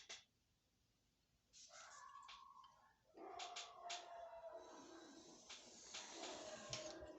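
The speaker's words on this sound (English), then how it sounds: "Sorry about the dogs going a little crazy." Dogs yelp and whine excitedly, starting after a quiet moment and continuing in a high-pitched, agitated stream, fairly faint in the distance.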